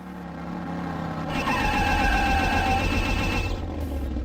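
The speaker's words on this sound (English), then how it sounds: "the sound of the car hitting the brakes is burned into my soul now" A car brakes in the DOS game Terminator: Future Shock / Skynet, producing a sustained synthetic screech over a rumbling engine drone that rises and holds for a few seconds.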